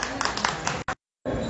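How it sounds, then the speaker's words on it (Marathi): At a kirtan in Nashik's Kalaram temple, an audience claps in a brief burst of close, brisk applause under a voice, then breaks off into a short silence before sound resumes. "सगळ्यासाठी जोरदार टाळ्या वाजवल्या."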